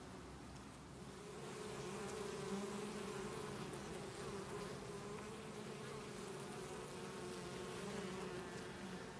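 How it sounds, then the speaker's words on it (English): Honey bees flying into a hive in autumn, laden with pollen: a dense, steady buzzing swarm drone, soft and continuous throughout, with no voices. "they're just bees flying in, full of pollen, loading up those frames and preparing everything for the winter."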